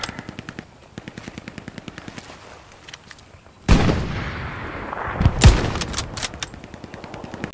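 Gunfire in the WWII shooter Hell Let Loose: a rapid, evenly spaced burst of machine-gun fire at a distance, then loud nearby shots and explosive blasts with rumbling echo, dense and overlapping.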